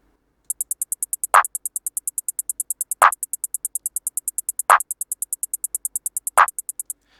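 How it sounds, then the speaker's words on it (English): In a Pluggnb beat, a steady run of fast, crisp electronic hi-hat ticks plays with a punchy clap layered on top. The four claps land at even, widely spaced intervals, and no other sounds are present. "The next thing I added was the claps, and this is what this sounds like with the hats."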